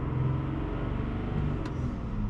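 A 2023 pickup truck's 3.0-litre Duramax diesel engine held at raised RPM, a steady, close, dense rumble that stays loud and even throughout with no talking over it.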